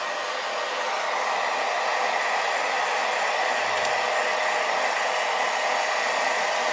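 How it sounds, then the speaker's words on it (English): A hair dryer on its low setting blows steadily on a decoupage white pumpkin with a beach theme, a continuous broadband whoosh at even, fairly loud level, with no talking. "So blow dryer on low."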